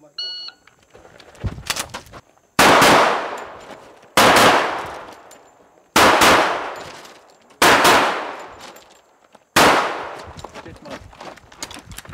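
Gunfire at a small outdoor firing range during shooting practice: six loud, close single shots spaced about one to two seconds apart, each cracking sharply and ringing out in a long decaying echo.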